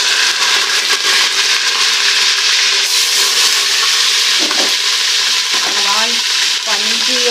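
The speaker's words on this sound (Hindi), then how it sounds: "गोश्त की आवाज़ जो है वो ज़्यादा आई है।" Meat sizzling and frying loudly in hot ghee inside a pot, a continuous crackling hiss with stirring scrapes, heard alone and close for several seconds.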